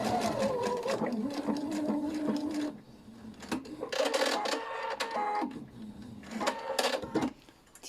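A home sewing machine stitches a seam on a large patchwork quilt in bursts of mechanical whirring, with a brief pause in the middle and fabric handling between runs, fairly close with no talking.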